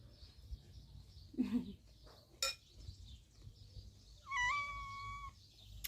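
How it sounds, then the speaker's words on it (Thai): A cat gives a brief faint meow among quiet background clinks and a short whistling tone, the call soft and close rather than loud. "แมวเหมียว"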